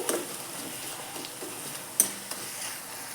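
Spice masala being stirred in a pan once the lid comes off, the paste already cooked down until the oil separates: soft scraping and faint sizzle with a couple of light utensil knocks, fairly quiet.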